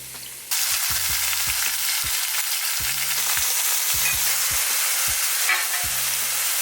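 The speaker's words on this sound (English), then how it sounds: "you can actually sear the steak, get some crust, some texture" Steak searing in a hot skillet for lo mein, a loud, steady, close sizzle that bursts up suddenly and holds, with low scraping knocks from stirring beneath it and no talking.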